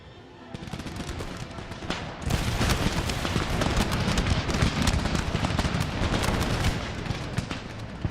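Musket volley fire in Empire: Total War: a loud, dense crackle of many shots, building from scattered reports into a sustained ragged fusillade lasting several seconds before easing slightly, with no talk.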